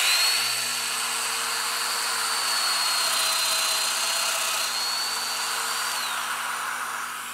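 Mortising tool cutting a mortise into a wood wainscoting panel, a steady, loud mechanical whine and buzz running the whole time, close and continuous, with no voices.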